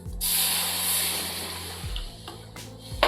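Buttermilk poured into hot spiced tempering with turmeric erupts in a loud, close sizzling hiss that holds steady, then fades into softer spattering with a couple of low thuds.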